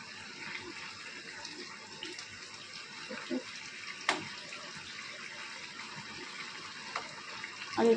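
Water poured from a tap into a cooking pot in a home kitchen, a steady low gush running throughout, fairly quiet, with a few faint knocks and clinks near the end.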